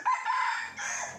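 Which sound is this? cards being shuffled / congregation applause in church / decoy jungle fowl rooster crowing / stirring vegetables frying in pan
decoy jungle fowl rooster crowing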